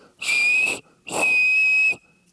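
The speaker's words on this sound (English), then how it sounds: "you can make a little whistle out of that thing" Two shrill, steady whistle blasts from a snake grass stem whistle, close and loud, the second held longer than the first, with a breathy edge to each.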